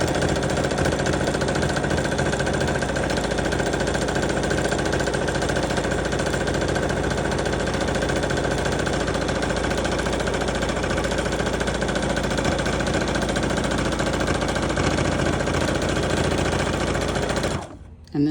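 A sewing machine stitches an art board cover in one loud, continuous mechanical whir with a steady rapid needle rhythm. It runs close for about seventeen seconds, then stops abruptly.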